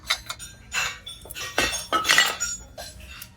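A small ceramic tureen and its broken spoon clinking as they are handled in a thrift store, several bright, close chinks and taps in quick irregular bursts.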